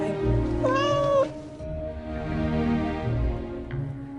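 A cartoon cat in an animated Thai Jataka folk tale gives a clear, close, rising meow, followed by softer, lower cat vocal sounds over quiet background music.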